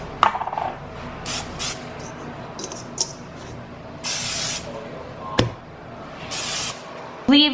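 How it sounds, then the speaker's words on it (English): Short hissing bursts of cooking oil spray aimed into a bowl for pizza dough, several quick spritzes spread unevenly among small kitchen clicks and handling noises, close and fairly loud. "spray cooking oil into your bowl."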